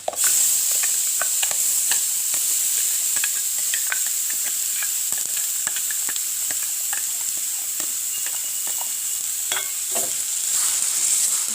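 Chilies frying in oil in a pan for Sri Lankan-style coconut chutney, a steady loud sizzle sprinkled with crackles and small pops throughout, close up and without any talk.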